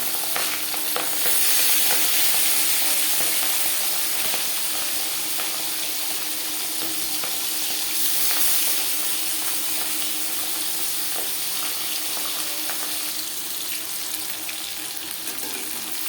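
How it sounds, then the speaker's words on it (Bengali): Pabda fish coated in turmeric and salt fry in four spoons of hot refined oil, giving a loud, continuous sizzle with crackling spatter that holds steady throughout. "4 চামচ রিফাইন্ড অয়েল গরম করে নিয়েছি। এবার দিয়ে দেব লবণ হলুদ মেখে রাখা মাছ।"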